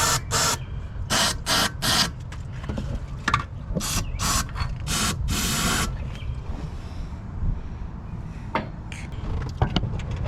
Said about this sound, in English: we can give them one more spritz out with the old Berryman